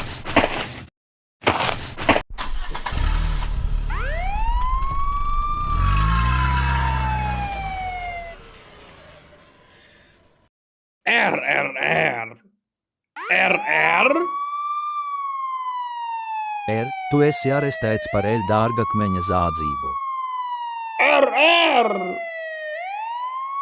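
A cartoon police car siren wails in long rising and falling sweeps, loud and close. It cuts out and restarts several times, with a voice speaking in the gaps.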